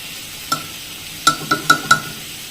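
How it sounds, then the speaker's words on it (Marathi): Cooked bajra and dal khichdi is mashed and stirred in a pot, giving five sharp, close clicks and knocks from the utensil against the vessel, spaced irregularly over a quiet background. "अशी छान घोटून घ्यायची."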